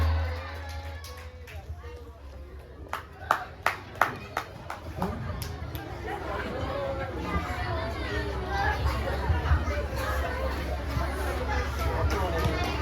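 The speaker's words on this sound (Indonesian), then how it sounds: "Tepuk tangan dong anak-anaknya buat ibu" Children at a school closing ceremony clapping in a scattered burst of sharp claps, then a noisy hubbub of kids chattering and shouting in a large room, with voices throughout.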